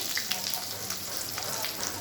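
Fish pakoras fry in hot oil in a wok, a dense, loud bubbling sizzle with a few crackling pops across the whole short stretch.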